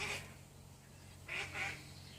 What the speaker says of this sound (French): Les canards sont d'accord.